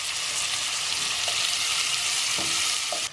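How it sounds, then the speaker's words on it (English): Cumin, paprika and turmeric sizzle in hot oil with a loud, continuous crackling hiss, and a few soft stirring knocks come through near the end. "Oh, look at that sizzling."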